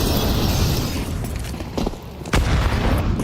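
A grenade goes off in Counter-Strike 2 with a heavy, close boom and crackle, followed by a second sharp burst and ongoing in-game rumble.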